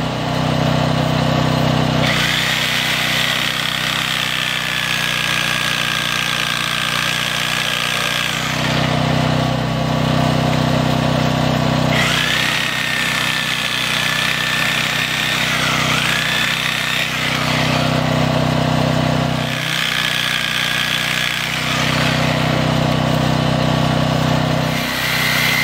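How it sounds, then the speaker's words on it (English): A Sawzall reciprocating saw cuts a notch in a wooden post for a pole barn, a loud close buzzing whine that runs in long surges with brief dips between passes, over a steady engine-like drone. "Finish it off with the Sawzall."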